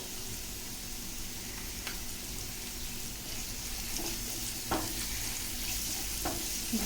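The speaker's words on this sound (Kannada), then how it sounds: "ಫ್ರೈ ಆಗಲಿ ಚೆನ್ನಾಗಿ" Egg fried rice, restaurant style, frying in a pan with a steady, dense sizzle throughout and occasional sharp clicks of stirring against the pan.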